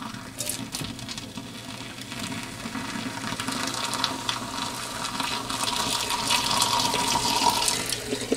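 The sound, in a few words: oven cleaner poured into a diesel heater burn chamber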